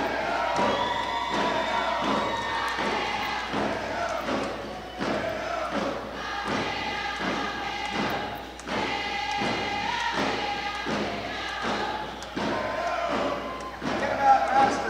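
Steady crowd cheering and shouting fills an arena during the opening ceremonies of an All Native Basketball tournament in Prince Rupert, over a regular pounding drumbeat as a seniors team dances in.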